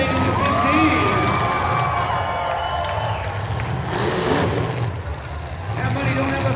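A crowd cheers and shouts in the stands at a demolition derby at the Boulder County Fairgrounds, with engines rumbling underneath and a voice carrying over the noise.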